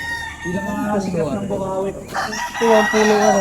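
An imported gamecock crowing in a yard, a few drawn-out, wavering calls close by, mixed with other background noise and possible nearby voices.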